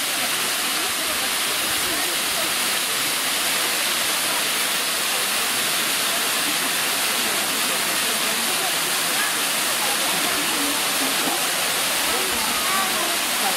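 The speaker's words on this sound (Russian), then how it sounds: "Водопад, шум." Shum waterfall on the Rufabgo river roars in a steady, dense wash of falling water, close by and constant throughout, at a busy stairway trail in the woods.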